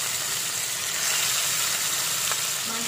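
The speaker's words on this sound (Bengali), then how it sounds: "এবার আমি মাছগুলো তেলে ছেড়ে দেব মাছগুলোকে আমি ভালোভাবে লাল লাল করে হাই ফ্লেমে রেখে ভেজে নেব" Rohu fish pieces frying in hot oil over a high flame, a steady close hiss and sizzle that carries on throughout.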